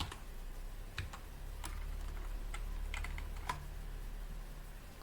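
Typing on a computer keyboard, a quiet close run of scattered key clicks over a low steady hum, with no voices.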